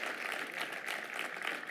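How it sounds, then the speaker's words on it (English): A crowd gives Shobhana and Peter a huge round of applause at the live finale of a startup pitch competition, steady faint clapping with no voices over it. "a huge round of applause for Shobhana and Peter"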